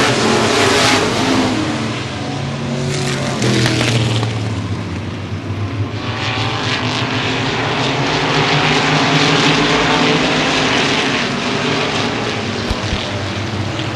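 Modified race cars roar around Baer Field Speedway, a loud, continuous blend of engines rising and falling as cars pass, without speech.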